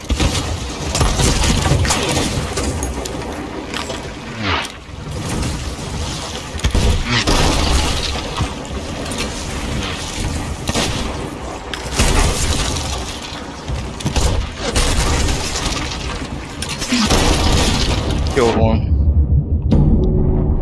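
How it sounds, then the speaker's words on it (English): Artillery volley explosions in a video game, with heavy, dense booming and crashing impacts rolling on continuously, loud throughout, then cutting off near the end while a voice talks over it. "Volley coming in."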